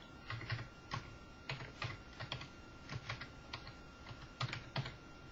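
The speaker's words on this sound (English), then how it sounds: "I'm going to type in my home address" Steady typing on a computer keyboard, a close run of quick key clicks in short bursts with brief pauses, alone with no voices.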